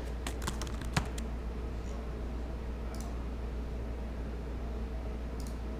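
Product details typed on a computer keyboard while setting up an online store listing: a quick burst of crisp key clicks near the start, then a few sparse taps over a quiet, steady hum.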